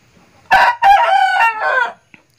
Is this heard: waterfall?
no